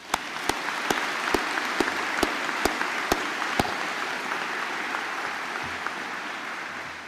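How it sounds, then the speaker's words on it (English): Applause from the crowd at a 2023 Northbridge High School graduation ceremony, a dense, sustained clapping that stays even throughout, with several sharp, louder claps standing out near the start. "let's give the class of 2023 a round of applause"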